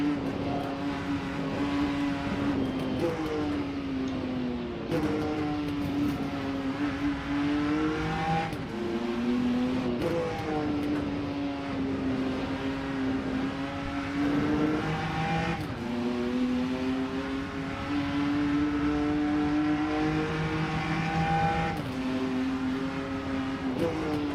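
BMW race car engine in the Rennsport racing sim video game drones continuously with a strong tone that rises through the gears, dipping at each shift and climbing again over a long steady run.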